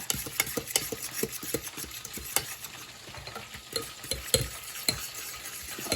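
Sweet and sour sauce bubbling in a pan while red food coloring is stirred in, with irregular clinks and scrapes of a utensil against the pan over a soft simmering sizzle.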